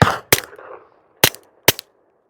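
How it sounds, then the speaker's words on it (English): Three sharp suppressed shots from a Walther PPK .22 pistol fitted with a Dead Air Mask silencer, each a short crisp crack with a brief decay, the first followed by a fading tail, spaced irregularly with silence between. "So now we have the Walther PPK with the Dead Air Mask. You can see it's a bit longer on it, and so we're just going to try shooting it with that."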